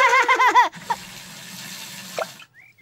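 In a cartoon, water runs for washing the family car, heard as a steady, soft hiss for a couple of seconds. A short tonal cartoon sound comes just before it, and it then cuts off abruptly.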